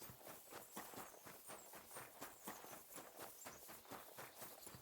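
Quiet, steady clopping of a horse's hooves walking away in Final Fantasy XIV, faint and continuous with no voices.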